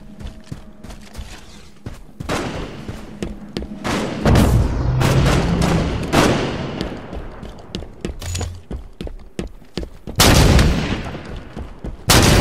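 Shotgun blasts in the sci-fi shooter Halo 5: Guardians, sharp booming shots at an irregular pace with a dense rumbling stretch in the middle and a heavy final burst, close and loud.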